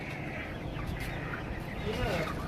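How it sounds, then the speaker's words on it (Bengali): At a farm holding about four thousand Sonali and poultry chickens, a dense crowd of hens clucks and murmurs without pause, heard at low level from a short distance. "আজ আমরা চলে আসলাম একটি মুরগির ফার্মে, যেখানে 4000 মুরগি দেখাশোনা করা হয়।"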